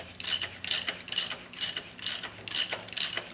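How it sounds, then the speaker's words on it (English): A ratchet turns a Time-Sert thread-repair tap in a BMW M52/M54 engine block, giving seven evenly spaced bursts of sharp pawl clicking, close and loud, with no voices. "This is nice, because you can just use this on a ratchet."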